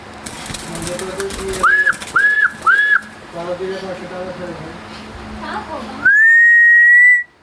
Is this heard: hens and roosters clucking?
no